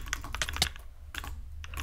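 Simulated mechanical keyboard typing from the Mechvibes app, used while playing Bedwars: a rapid flurry of close clicky keystrokes, a pause, then more bursts of keys, with no talking.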